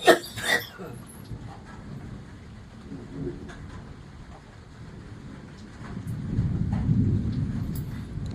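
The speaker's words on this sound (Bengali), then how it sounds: "বাইরে মেঘের গর্জনটা শুনছ মা" Thunder rumbles outside during a rainstorm, a low continuous roll under steady rain that swells louder and deeper toward the end.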